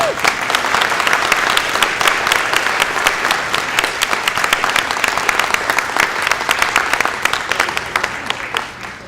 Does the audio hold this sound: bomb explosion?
no